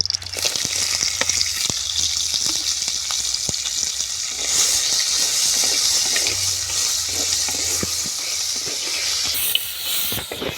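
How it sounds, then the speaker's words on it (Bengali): Steady, loud hissing and spattering of crabs frying in hot oil in a wok continues throughout, with occasional crackles and pops, close up and no voices. "কাঁকড়াগুলো ভেজে নেব"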